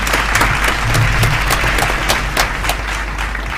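Loud, close audience applause at a secondary school debate competition final, a dense, steady clatter of many hands that fades slightly toward the end, over a low background hum.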